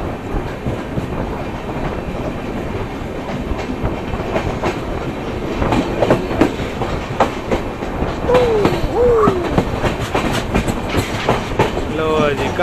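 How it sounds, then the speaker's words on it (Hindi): A passenger express train on an Indian line runs over track switch points, a loud, constant rolling rumble with clacking wheel beats and faint squeals, heard from on board. "लो जी कांटा बदल गया ट्रेन का।"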